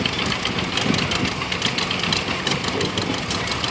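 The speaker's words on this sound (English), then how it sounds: "Then we got a 3020 John Deere owned by Paul Hall, 1967 model." A 1967 John Deere 3020 tractor runs at a steady idle with a constant knocking, vibrating engine rumble at moderate distance, heard among outdoor parade noise with no clear talk.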